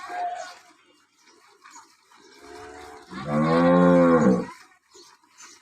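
A recently calved cow lets out a deep, drawn-out moo close by, preceded by a shorter low call, with faint background noise around it.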